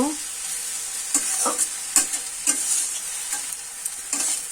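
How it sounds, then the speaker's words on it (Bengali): Water spinach, a leafy green, is stir-fried in hot oil in a pan, with a steady sizzle under repeated sharp scrapes and clinks of a spatula stirring every half second or so, close up and without talk. "শাকটা আমি ভালোভাবে ভেজে নিব।"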